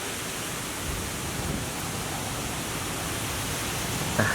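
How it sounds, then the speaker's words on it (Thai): Sapan's eight-tier twin-stream waterfall in Bo Kluea, Nan, gives a steady, broadband roar of falling water that stays constant throughout. "อันนี้ครับน้ำตกแปดแห่งสะปันนะครับ ลักษณะน้ำตกก็สวยครับเป็นน้ำตกสายคู่ไหลลงมา"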